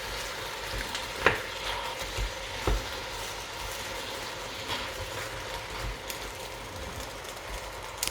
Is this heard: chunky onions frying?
yes